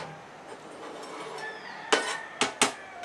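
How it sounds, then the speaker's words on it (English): A spoon scrapes and clinks in a pot of porridge with vegetables. Faint stirring gives way to three sharp metallic knocks near the end, close by with no talk. "Give that a quick stir"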